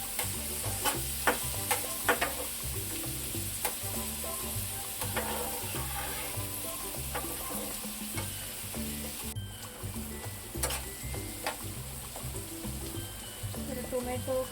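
Tomato and onion sauté in a pan for egg masala. A soft, constant frying hiss sits under repeated light stirring clicks and scrapes, along with some low background noise.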